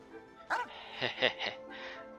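Dogs in Genshin Impact give a few yipping barks and whimpery calls in quick succession, fairly close, over steady background game sound.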